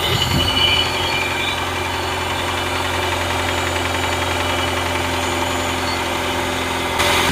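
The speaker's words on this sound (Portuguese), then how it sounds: "Já estou funcionando aqui o motor, vou virar aqui e botar o microfone mais próximo para vocês verem a questão da zoada que ele faz." A Mitsubishi TR4 engine runs steadily at idle with a faint repetitive tapping knock inside its hum, recorded close to the engine bay, without speech.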